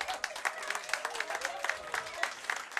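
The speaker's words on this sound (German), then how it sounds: "Einen Applaus haben sie verdient." Applause from an audience at an evening summer festival in Ludwigshafen, 2013: fairly faint, scattered clapping with sharp accents, mixed with background crowd murmur.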